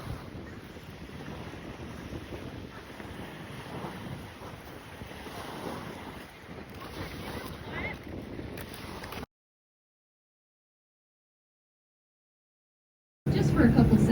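Tour boat on a lake in Glacier National Park turning around, with a steady engine and water rush buffeted by wind noise, then a few seconds of silence before the sound returns.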